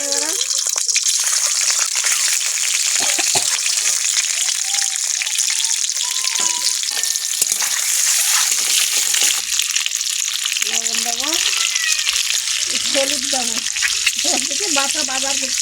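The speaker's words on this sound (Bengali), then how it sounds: "কড়া তেল দেবো ডিমগুলো ভাজে নেবো ডিমগুলো দিয়ে দেবো" Eggs fry in hot oil in a pan, a loud continuous crackling sizzle that runs throughout, with a voice talking faintly underneath at times.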